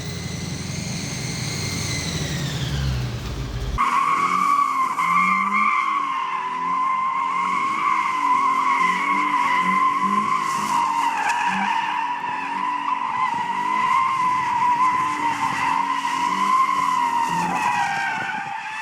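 High-speed road racing cars at a Queensland Powercruise event. Tires skid and squeal in a long, loud, sustained screech, and engines howl near and far beneath it after an abrupt cut from an earlier engine roar.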